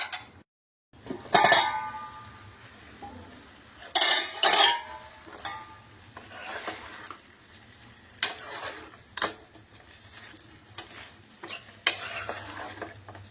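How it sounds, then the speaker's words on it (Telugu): Chicken stirred in a metal pot while cooking gongura chicken: irregular bursts of spoon scraping and clanking against the pot at close range, with quieter gaps between strokes and no talking. "ఇలా చికెన్ వేసిన తర్వాత చికెన్ మొత్తం ఇలా మిక్స్ చేసి ఒక టెన్ మినిట్స్ ఉడకబెట్టాలి"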